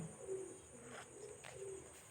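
Pigeons at an outdoor pigeon market give soft, low cooing in a couple of brief bursts over a steady background hum, fairly faint and without any talking.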